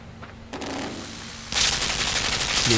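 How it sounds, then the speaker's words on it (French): A laser-guided machine gun in the Limbo video game fires in loud bursts that step up in intensity, at about half a second and again at one and a half seconds, then continue steadily to the end without any voices. "Donc il y a une mitraillette à guidage laser."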